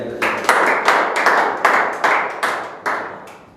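An audience at a general knowledge quiz program claps for the winners, a short burst of close, rhythmic clapping that comes in uneven pulses and tapers off after a few seconds.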